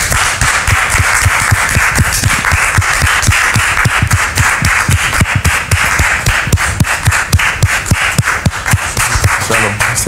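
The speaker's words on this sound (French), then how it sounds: "Public, recevons à présent Monsieur Séraphin, sous vos applaudissements, s'il vous plaît." A studio audience claps loudly and steadily to welcome a guest onto a French-language show, a dense, continuous patter of hands that lasts the whole stretch with no break.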